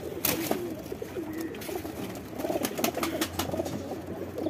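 Several pigeons, two males and a small-beaked female, coo softly in low repeated murmurs at close range, with light rustling around them and no talk over the calls.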